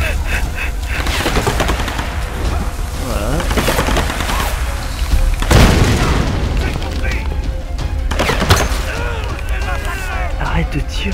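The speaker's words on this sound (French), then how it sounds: "Arrête de tirer" Gunfire in Tomb Raider 2013: rapid bursts and scattered shots mixed with heavy booms and a strong explosion midway, all dense and loud, with people speaking French over the combat throughout.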